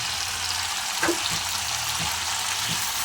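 Mixed vegetables frying in a pan for a five-vegetable curry, a constant hissing sizzle with a few soft scrapes of stirring.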